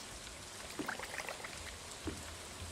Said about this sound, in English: And it's a rainy day.